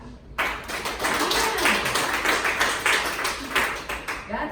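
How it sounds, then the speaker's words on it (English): An audience of mothers at a comedy show clapping, a dense rattle of many hands that starts abruptly and holds steady, moderately loud, with no talking over it. "Moms in here, clap."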